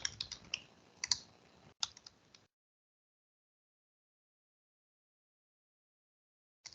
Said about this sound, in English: Now I can type it up right here.